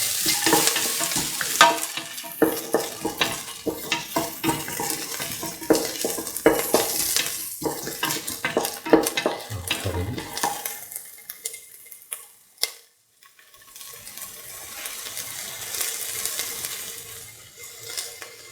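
Shallots and salt frying in a pan, busy crackling sizzle with frequent spoon clicks and scraping for about twelve seconds, then a brief pause before a gentler sizzle resumes, no talking.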